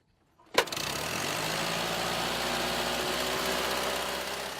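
An antique car engine cranks with a sharp burst, then catches and settles into a steady, close idle with a low continuous rumble that holds evenly.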